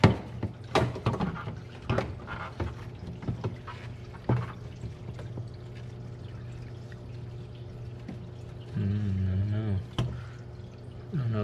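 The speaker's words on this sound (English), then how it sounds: "Fill it up with water." Water poured into a DIY protein skimmer stand, a steady close pouring wash broken by a few knocks and clunks, with a bubbling gurgle near the end.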